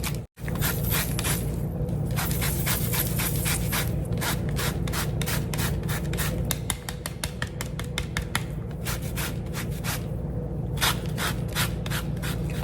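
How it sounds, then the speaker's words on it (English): A lemon is zested lightly over the top of a whole-fruit lemon pound cake, in quick rhythmic rasping strokes that come in bursts with brief pauses, close and clear over a low steady background hum. "we just take our lemon and just zest it lightly over the top"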